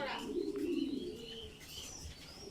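Racing pigeons cooing close by, low throaty coos repeating steadily with a few light chirps over faint background noise.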